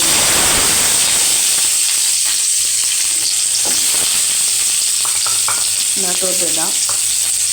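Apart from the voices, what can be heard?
chopped onion frying in hot oil in a pan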